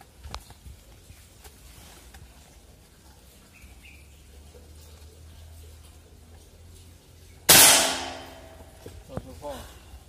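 A PCP Timberwolf Big Game air rifle rated at 1450 fps fires once: a single sharp, loud crack with a short decaying tail, standing out against quiet background noise and faint voices.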